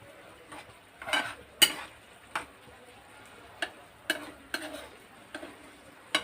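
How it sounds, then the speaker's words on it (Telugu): A spoon scraping and clinking intermittently in a pan as a rice dish is stirred while cooking, quiet irregular knocks and scrapes over a faint low sizzle. "ఇలా కలిపేసి ఇది బాగా దగ్గరగా అయిపోయే వరకు ఉడికిద్దాం."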